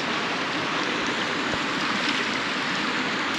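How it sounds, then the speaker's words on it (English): Crystal clear river rapids in Patagonia, Argentina produce a steady, dense roar of rushing water, loud and close throughout, with no voices. "What a sight, hey, just even crystal clear river rapids."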